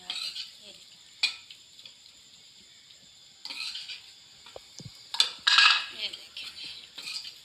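Coarsely pounded chana dal being roasted and stirred in a pan over a low flame for halwa: intermittent scrapes and clinks of a spoon against the metal pan over a faint sizzle, with a brief voice.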